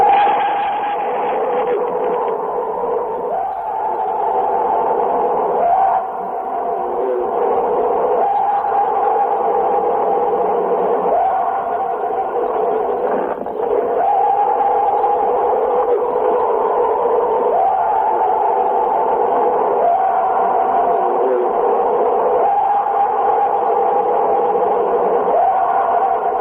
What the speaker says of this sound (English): That sound is generally agreed to be the sound of a real Bigfoot.